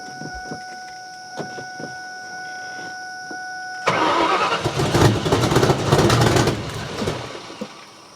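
A Ford Mustang engine is cranked over: after a quiet stretch with a steady electrical tone, the starter suddenly churns loudly and unevenly for several seconds, then fades out without the engine catching.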